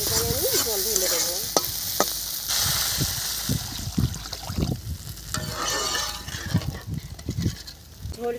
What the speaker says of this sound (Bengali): মশলা ভাজা হয়ে গেছে, দেখুন কত অল্প তেলে করেছি, একদম তেলই নেই, বুঝতে পারছেন? এবারে আমি জল ঢেলে দেবো